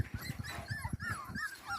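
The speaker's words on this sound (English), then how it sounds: "All these adorable little puppies." Little puppies on a farm whimper and yip in quick succession, a cluster of high whines and short soft barks close by, fairly quiet and continuous.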